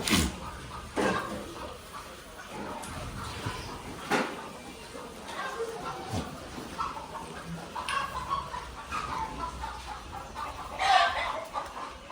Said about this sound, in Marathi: इकडं आहेत कोंबड्या वगैरे